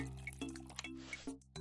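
Liquid pouring into a coffee cup in the Papa's Mocharia Deluxe cooking game, a soft watery fill with a few drip-like accents, steady and close over a low background hum.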